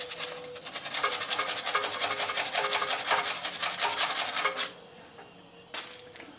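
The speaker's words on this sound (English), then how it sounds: "Just cleaning the flywheel magnet. Little piece of sandpaper." A small piece of sandpaper is rubbed back and forth over a rusty flywheel magnet on a pressure washer engine, a close, rhythmic rasping scrub for several seconds that then stops, leaving a couple of faint scrapes.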